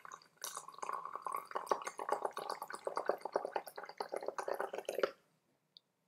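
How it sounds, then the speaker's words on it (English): Water at 60 °C pours onto used tea leaves, a close, bubbly splashing stream for about five seconds that stops abruptly, followed by one faint drip. "I'm going to go ahead and pour that in."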